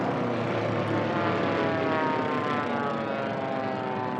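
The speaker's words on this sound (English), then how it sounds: "Beautiful aircraft. I love that plane." A Formula One class race plane at the STIHL National Championship Air Races roars past with a loud, sustained propeller engine drone, its pitch shifting gradually as it goes by.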